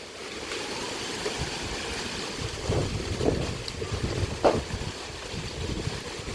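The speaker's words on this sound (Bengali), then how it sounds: "প্রচুর পরিমাণে বাতাসের নয়েজও শোনা যাচ্ছে" Strong Kalbaishakhi storm wind roars and buffets the microphone in rising gusts, with rushing rumble swelling and fading over a constant windy background.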